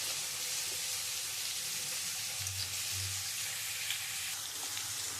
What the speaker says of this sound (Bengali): আলুটা আমি একটু ভেজে নেবো লাল লাল করে।